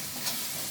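Spice paste with onion sizzles and fries in hot oil in a pan, a brief, steady hiss close by with a faint stir.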